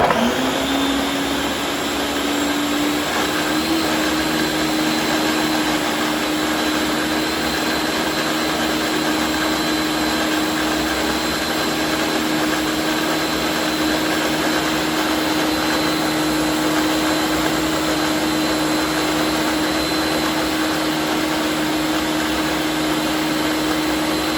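A Ninja blender runs steadily while blending greens, garlic and onions for Haitian epis, a loud, constant motor whir that holds for the whole stretch with no talking.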